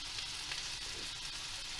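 Continuous crackling sizzle of pumpkin with spices frying in a hot pan, steady and close, with no voices.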